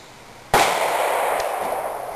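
A single loud, close shotgun blast from a 20 gauge Remington 870 youth-model pump shotgun with a bead sight, fired outdoors, with a sharp report and a long decaying echo tail, no talk.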